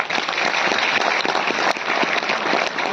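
Loud applause from an audience at a Delhi railway goods-shed workers' union program greeting a minister, a dense, vigorous clatter of many hands with a few sharper claps standing out.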